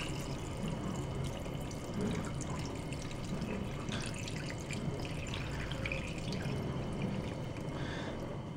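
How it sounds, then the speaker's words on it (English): Water pours steadily from a tap into a pot of vegetables for a lentil vegetable stew, a continuous splashing, gurgling stream heard close and alone. "And we're just going to cover it with water."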